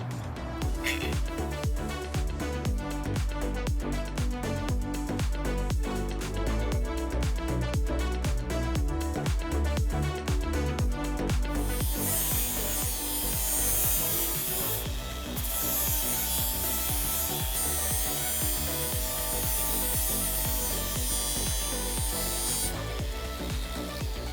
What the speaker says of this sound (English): he's going to swap to a sanding disc, and that's just to smooth out finish